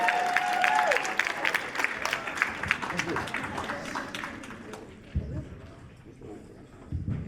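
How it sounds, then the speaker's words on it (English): Audience applause for a speaker at a youth conference, loud dense clapping with some cheering that fades after about five seconds to quieter room noise. "Give it up for him, y'all. Clap it up."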